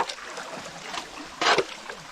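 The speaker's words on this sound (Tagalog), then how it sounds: "Ba't ang lakas ang alon dyan?" Strong waves splash in the water off Mauban, Quezon, a rushing wash with one louder surge near the end, heard close by without talk.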